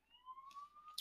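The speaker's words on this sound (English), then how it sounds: "Sorry for the sirens back there." A distant siren wails in a steady rising tone, faint and brief, with a burst of noise at the end.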